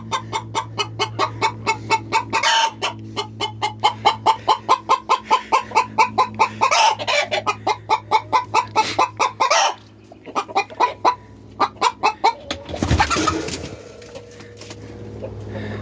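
Chickens cluck steadily in a rapid, rhythmic stream, close and loud, with a louder squawk or crow near the end.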